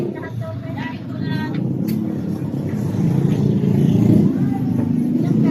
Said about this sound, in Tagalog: Grabe traffic ng banda oh